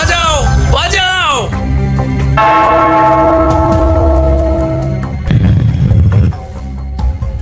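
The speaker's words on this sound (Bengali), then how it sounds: "ওই ঘন্টাটা বাজাও বাজাও" A bell rung in a comic cartoon scene, sustained ringing tones heard after voices and music, loud and close, with people talking around it.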